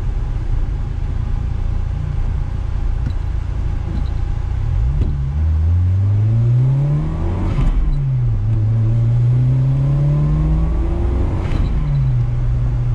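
A 1994 Toyota Celica GT-Four, a right-hand-drive car, drives along with its engine humming steadily, then rising and falling in pitch through gear changes, a sustained near drone with no talking.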